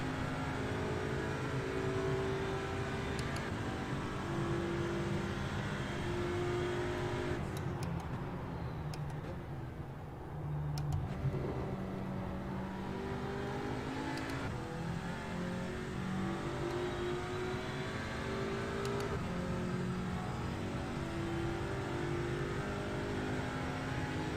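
Audi RS3 race car in the iRacing simulator at Charlotte, its engine droning loudly and steadily throughout with shifting harmonic tones, briefly easing off under braking before building again.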